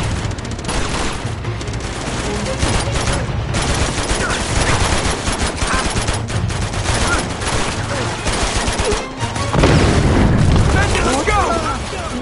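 Tank cannon fire and gunfire in a video game, dense continuous volleys of shots and booms with a heavy blast late on, loud and busy, under excited shouting.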